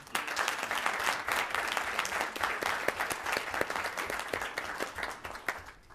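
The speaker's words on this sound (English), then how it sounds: "Another round of applause." A crowd at a council meeting claps steadily for several seconds, a dense even patter of many hands with sharp individual claps standing out, moderately loud and unbroken.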